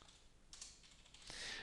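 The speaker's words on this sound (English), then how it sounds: "while you are typing your response here" A computer keyboard is typed on in short, quiet bursts of clicking keystrokes, faint and close, with no talking.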